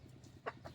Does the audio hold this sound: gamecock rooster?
yes